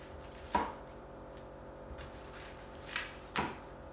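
A knife chops onion on a cutting board, giving a few sharp, isolated knocks spaced well apart and heard close over a quiet room with low background hum.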